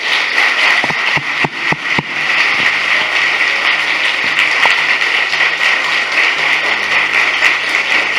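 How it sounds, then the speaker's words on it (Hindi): A church congregation gives loud, sustained applause in praise of Jesus during a Hindi sermon. A few sharp claps open it, then a dense wash of clapping continues steadily throughout. "मैं चाहता हूं सबसे पहले हम जोरदार ताली प्रभु यीशु के लिए बजाएं"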